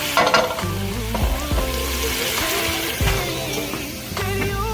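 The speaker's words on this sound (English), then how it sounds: "Okay, we'll let that cook a little more, let the fat renders off of it." Fideo pasta frying in rendered fat gives off a steady, close sizzle throughout, with faint scraping from occasional stirring and no talk.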